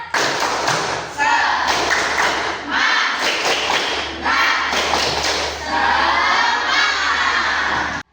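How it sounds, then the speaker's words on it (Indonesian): A school class doing a rhythmic spirit-clap chant during an Islamic religious education lesson: loud, close group clapping in short repeated bursts, mixed with children's shouted chanting voices. "mari kita tepuk semangat dulu ya. Coba tepuk semangat."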